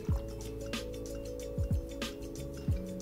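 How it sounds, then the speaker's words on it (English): Amaretto liqueur from a jigger is tipped into a cocktail shaker, giving a handful of short, close liquid drips and splashes at uneven intervals against a quiet room. "We're going to pour it into our shaker."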